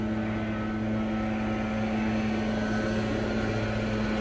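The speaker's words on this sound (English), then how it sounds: "They're cutting grass and stuff, so they have the leaf blowers and stuff going on right now." Landscapers' leaf blowers drone steadily outside, a continuous engine whine with a broad noisy roar that keeps the same level throughout and has no talk over it.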